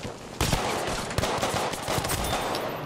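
Gunfire in the video game Battlefield V, played on PS4, comes as rapid, loud bursts of shots over continuous battle noise, with sharp cracks repeating through the whole stretch.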